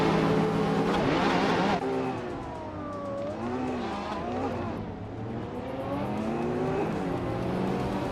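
Race cars in a racing video game, including a 2016 Bugatti Chiron on the Golden Port track, engines revving and shifting pitch as they accelerate, a continuous near roar with rising and falling tones and no talking.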